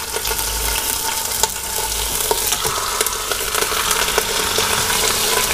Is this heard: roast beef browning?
yes